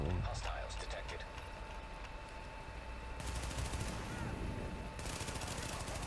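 Bursts of rapid automatic gunfire from the shooter video game The Division crackle over steady in-game background sound, with a sustained volley in the middle and another toward the end.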